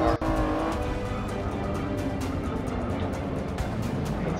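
Race car in Forza 6 droning steadily at high revs, a close, continuous engine tone with a brief knock near the start and no clear talk.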